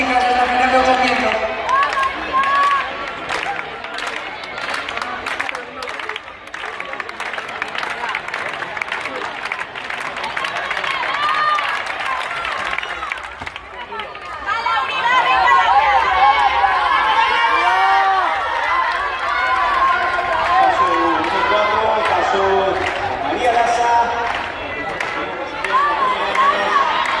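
Spectators at a women's 800 m final at the Spanish U20 athletics championships in Ourense clap and cheer from the stands, a steady crowd roar that swells louder partway through, mixed with commentary.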